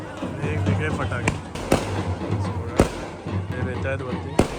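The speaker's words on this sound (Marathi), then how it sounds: "वेगवेगळे फटाके" Assorted firecrackers bang sharply and repeatedly at a temple festival procession for the deity Rameshwar, with loud cracks scattered among a noisy crowd and talking voices.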